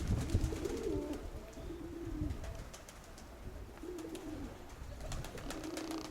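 Pigeons in a loft give soft, low, rolling coos in intermittent phrases, fairly faint against light background rustling and occasional small clicks.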